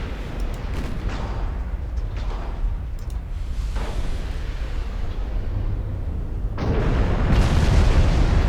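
Warship guns fire in the Ultimate Admiral Dreadnoughts naval game, with deep rolling booms and rumbling over a constant low engine drone, and a heavier surge of blasts near the end.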